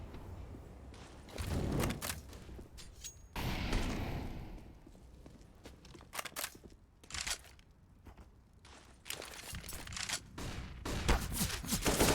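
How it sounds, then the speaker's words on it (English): Gunfire in Counter-Strike on the Overpass map during a competitive esports match, with bursts of rapid shots and single cracks in irregular clusters, mixed with in-game movement sounds throughout. "With a nice headshot there towards Greats"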